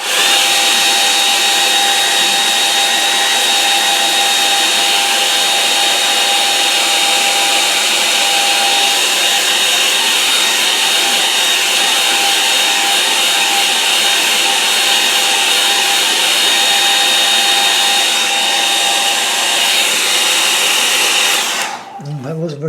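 A hair dryer blows a loud, steady, unbroken whoosh to dry wet paint on a mixed media painting, running close for over twenty seconds before it shuts off abruptly at the end.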